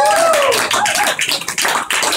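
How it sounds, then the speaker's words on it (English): An audience at a rap show in Helsinki claps and cheers, a loud, dense burst of applause with a whistle near the start, continuing steadily before thinning out. "please, a round of applause for Ryan Miller"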